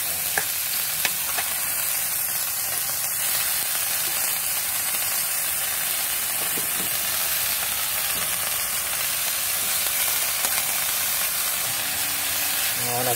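Fern shoots (pako) sautéing in a pan give a continuous, fairly loud sizzle and hiss with occasional faint stirring clicks, no voices over it.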